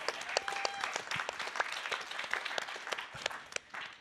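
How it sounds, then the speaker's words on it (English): At a youth forum in Sun Valley, the audience claps in a sustained, crackling round, many hands at moderate distance with sharper individual claps standing out, fading slightly at the end. "Yeah, you can clap."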